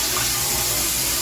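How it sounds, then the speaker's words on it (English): Hot water runs steadily from a kitchen tap to rinse out a pan after browning meat for chili, a loud, continuous hiss of splashing water close by. "And then rinse this out with hot water right away."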